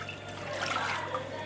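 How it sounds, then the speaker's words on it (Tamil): Water poured into a pot for cooking Maggi noodles, a brief, close, steady splashing trickle with no voices. "இவ்வளோ அளவுக்கு தண்ணி ஊற்றிக்கணும் நண்பர்களே."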